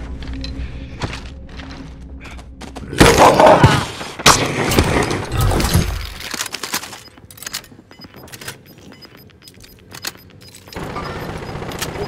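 Gunfire bursts in Call of Duty, with a loud cluster of shots and booms in the middle of the clip, then quieter scattered shots against a background of game noise.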